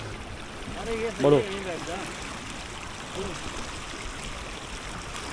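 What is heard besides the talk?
water flowing into a pond from a stream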